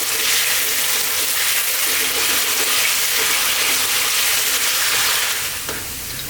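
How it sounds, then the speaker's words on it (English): Raw potato pieces for cumin potatoes fry steadily in a hot pan, a dense, continuous close sizzle that carries on evenly before easing slightly toward the end. "we're going to fry them around for about 5 to 6 minutes"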